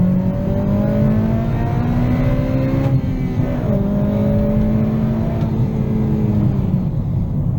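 Honda Civic Si, eighth generation, revving hard through the gears in a pull, steady rising engine note with two upshift drops, loud and close, no talk.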